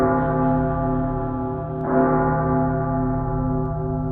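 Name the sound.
church bells ringing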